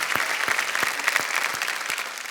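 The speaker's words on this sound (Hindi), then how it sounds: "एक बार जोरदार तालियां हो जाए डॉक्टर्स के साथ." A crowd applauding steadily, dense clapping with a few louder individual claps standing out, continuing throughout and easing slightly at the end.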